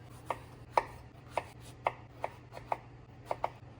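A knife chops fresh strawberries on a cutting board for strawberry and lemon scones: about nine crisp, close chops at a loose, steady pace over a faint low hum, with no talking.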